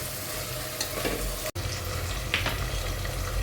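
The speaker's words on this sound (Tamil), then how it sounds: "உப்பு சேர்த்து நல்லா வதக்கிக்கலாம்." Onions and tomatoes with salt, sautéing for mutton biryani, fry with a loud, dense sizzle and stirring scrapes, broken once by a brief dropout, with no talk.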